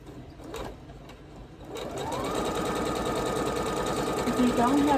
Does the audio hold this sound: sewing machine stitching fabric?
yes